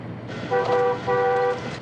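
A car horn gives two short, loud honks close by, separated by a brief gap, over low street noise.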